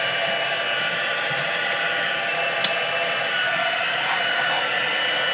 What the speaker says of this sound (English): Heat gun on. Let it get warm.